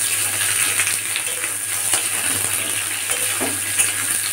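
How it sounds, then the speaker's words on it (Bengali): Mixed vegetables, including green banana, fry in a pan with a steady, close sizzling hiss and occasional light stirring clatter throughout. "তো এটা একটু ভাজা ভাজা যখন হয়ে যাবে"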